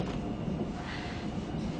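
Low rumbling drone of a moving train heard from inside a carriage, steady and moderately loud with faint rattling.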